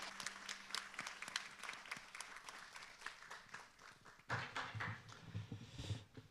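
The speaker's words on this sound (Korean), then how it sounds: "수고해 주신 분들께 박수 한 번 더 부탁드리겠습니다" Clapping from a church congregation at a New Year's Eve service, a scattered, fairly quiet patter of hand claps that thickens and grows louder in the last two seconds.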